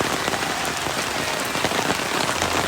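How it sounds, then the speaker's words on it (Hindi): Very heavy rain pours down near a toll booth on a mountain road to Mussoorie, a dense, loud and steady hiss of drops drumming on surfaces with no break. "बहुत तेज बारिश आ गई है।"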